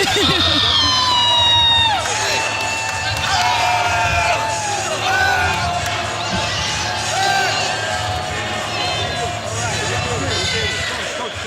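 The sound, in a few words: crowd cheering at a boxing fight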